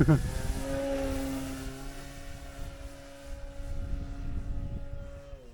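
Hagar 9 Valiant balsa radio-controlled model airplane, 69-inch wingspan, flying at a landing field, its engine giving a steady droning hum with a slowly shifting pitch as it passes, moderately loud over outdoor background noise.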